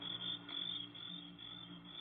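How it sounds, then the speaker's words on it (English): Crickets shrilling in a continuous high, thin chirring trill at night, steady and fairly quiet throughout, as a radio drama sound effect with a low background hum beneath. "there wasn't a sound except the crickets, shrilling so loudly the noise seemed to beat inside my brain"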